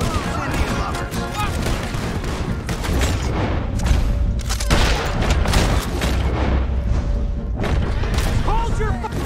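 Red Dead Redemption 2 gunfire: a dense, continuous barrage of shots and booming blasts stays loud throughout, with voices mixed into the battle.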